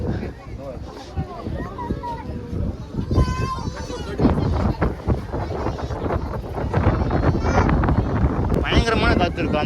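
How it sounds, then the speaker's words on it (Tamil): Strong, cool wind on the Langkawi Sky Bridge, heard as steady, rumbling gusts buffeting the microphone up close, rising louder toward the end while people talk over it. "கூலிங்கான காற்று பாருங்க, எப்படி காற்றடிக்குது பாருங்க."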